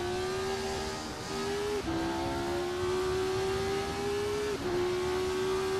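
A race car engine in the Assetto Corsa sim whines in a sustained, rising tone, with a couple of sharp gear-shift drops in pitch before it climbs again.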